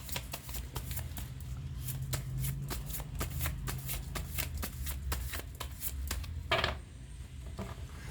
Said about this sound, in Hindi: अब मुझे कार्ड शफल करने का मन किया, इसलिए मैंने कर लिया